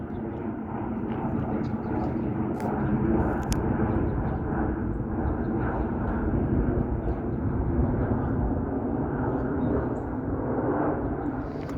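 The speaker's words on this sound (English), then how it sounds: "It's a 737-900 Delta Airlines." A Delta Airlines Boeing 737-900 passes overhead through light cloud, a broad steady jet roar at moderate distance that holds throughout with little change.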